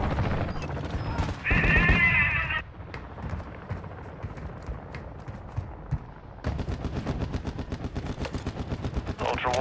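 Enemy gunfire in the Call of Duty Modern Warfare II video game: a loud burst opens, then after a quieter stretch a long string of rapid automatic shots rattles steadily on.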